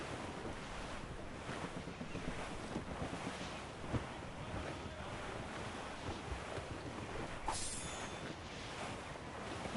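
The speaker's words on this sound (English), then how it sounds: "Shorten sail! Get off the squall!" Squall wind and rolling sea surge steadily around a sailing ship in Assassin's Creed Rogue, with constant roaring gusts and wave wash and no voices.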